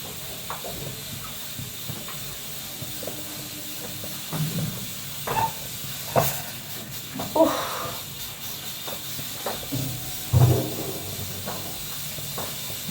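A pressure cooker on a home kitchen stove releases steam in repeated short hissing bursts, each rising briefly above a low background.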